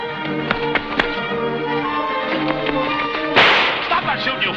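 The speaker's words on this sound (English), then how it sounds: "Stop that shooting, you fools!" Gunshots fired from a car in a 1940 Green Hornet film serial: a quick series of sharp, cracking shots over engine noise, followed by one louder, harsher burst.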